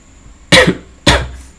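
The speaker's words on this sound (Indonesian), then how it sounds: "Bentar, maaf agak batuk karena lagi sakit." Two sharp, loud coughs about half a second apart from a person who is ill, close to the mic with no speech around them.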